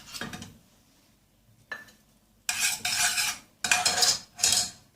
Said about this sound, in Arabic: هنقلبها برضو ايدينا ما تتشالش منها